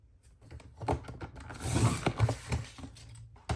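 Paper trimmer slicing scrapbooking paper: a close, quiet run of scraping, clicking mechanical sounds as the blade slides along, with no talking.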